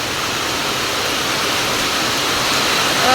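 Heavy rain pours down in a dense, steady roar that fills the whole clip without a break.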